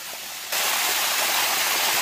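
A waterfall in Thailand roars steadily, a loud close wash of falling water that swells suddenly and then holds as an unbroken rush with no voices.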